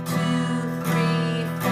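Acoustic guitar chords strummed at a moderate, even pace, with a chord change to G; broad strums ring out and sustain between strokes, fairly soft and close with no talking.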